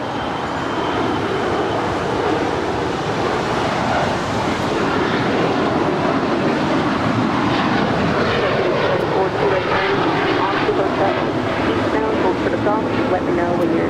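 United Airlines Boeing 737-900ER jet at LAX, a steady loud broadband roar that fills the whole stretch without letup, close and continuous.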